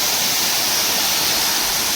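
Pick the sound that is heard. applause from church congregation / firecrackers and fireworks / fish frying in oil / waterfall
waterfall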